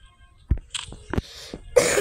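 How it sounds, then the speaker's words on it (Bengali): A person with a mild cold coughs a few short, sharp times, with brief breathy sounds between and a burst of broadband noise at the end. "আমার একটু কাশি হয়েছে"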